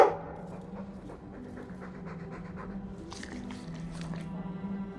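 A Mabari war dog in Dragon Age 2 pants steadily in quick, soft rhythmic breaths, close but fairly quiet, over a faint low game ambience, with no talking.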